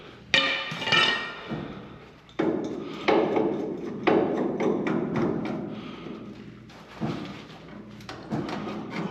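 A hammer and pry bar work on a truck's mud flap holder, giving several separate metallic knocks and scraping clanks at irregular intervals, close and fairly loud.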